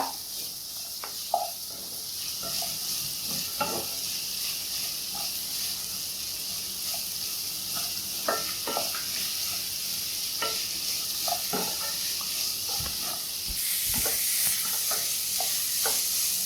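Cabbage and mixed vegetables stir-fried in a pan for Schezwan veg fried rice, with a steady sizzle under scattered scraping and tapping strokes of the spatula that continue for the whole stretch, close and moderately loud, no voices.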